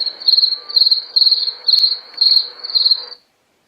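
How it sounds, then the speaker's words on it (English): Steady, high-pitched grasshopper chirping in a field, in repeated pulsing bursts, about six rhythmic trills, close and fairly loud, then stopping abruptly. "chirping grasshoppers, like out in the field."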